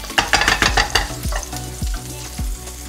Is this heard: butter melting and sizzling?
yes